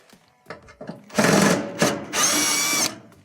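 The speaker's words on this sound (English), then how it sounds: "We must first remove the lower panel here with the 2 Phillips screws." Power screwdriver backing out Phillips screws from the lower panel of a Whirlpool stove, two loud whirring bursts after a few small clicks and taps, close up with no talk.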